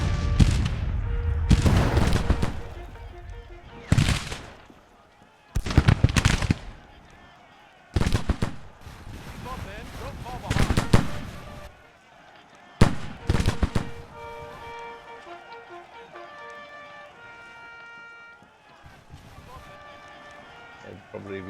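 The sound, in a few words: skirmishers firing muskets in Civil War video game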